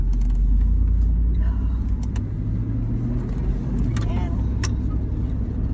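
Interior of a car cruising on a windy day, a steady low road rumble and engine drone filling the cabin with faint creaks and brief clicks above it, the motor noise continuous and close throughout.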